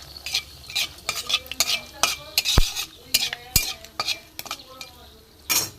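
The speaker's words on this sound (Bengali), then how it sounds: "ফোড়নটা ভালো করে একটু ভাজা হোক" Whole spices fry in oil in a pan for an egg dalna, a soft sizzle under repeated stirring, with metal spoon scrapes and sharp clinks against the pan.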